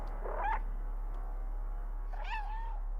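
Cat meows from the video game Stray: two separate rising-falling meows, one short near the start and a longer, more tonal one near the end, moderately close over a quiet background hum.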